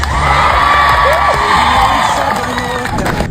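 A crowd at a political rally cheers and shouts loudly, with whoops and high voices rising over a dense, continuous roar of applause for a few seconds.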